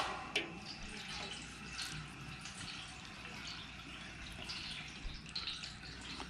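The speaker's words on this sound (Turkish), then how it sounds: "Şimdi annem onu süzecek." Sumac juice strained and left to flow through a sieve makes a quiet, continuous trickle with scattered small drips and splashes, soft and close, without talk.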